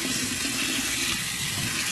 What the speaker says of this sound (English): Just run them under some cold water.